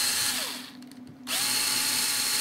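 A power drill drives screws into a model airplane build, its steady whine running loud and close, briefly dropping off mid-clip before resuming at full speed.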